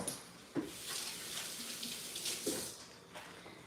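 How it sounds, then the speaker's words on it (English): Tap water runs steadily for a few seconds as hands are rinsed beneath it in a home kitchen while baking banana bread, with soft splashes and small bumps near the start and toward the end. "I give my hands a quick rinse"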